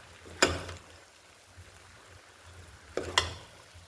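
A spoon stirring egg biryani in a pot, two scraping, clinking strokes a few seconds apart over a low simmering background, quiet and with no talk.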